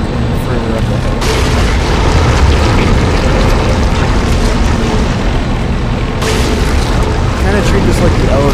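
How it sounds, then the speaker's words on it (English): A heavy, booming Force Gun blast in Dead Space 2, loud and rumbling across the whole stretch, with a second sharp burst near the end. "I use the Force gun to blow them right off the edge"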